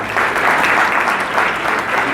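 Dense audience applause at a university lecture hall event in Mexico City, loud, steady and sustained, with brief swells in the clapping.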